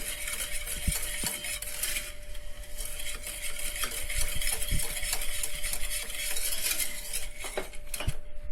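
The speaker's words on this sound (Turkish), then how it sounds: "Bunu bir daha karıştırıyorum" Flour halva mixture being stirred with water in a pot, a steady scraping and clinking of a spoon against metal with sizzling underneath, close and continuous, no voices.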